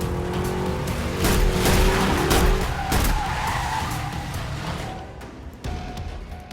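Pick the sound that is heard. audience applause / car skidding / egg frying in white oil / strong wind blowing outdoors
car skidding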